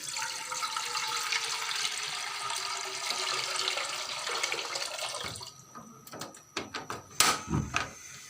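Rice being washed in water for a sweet Eid zarda pulao, a steady running-water wash like a tap filling a bowl, which breaks off after about five seconds into a few separate splashes and knocks.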